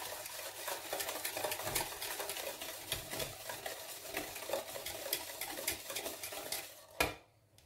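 Batter for anise rosquillas being beaten by hand in a bowl, a dense, steady clatter of quick strokes that continues throughout and stops abruptly near the end.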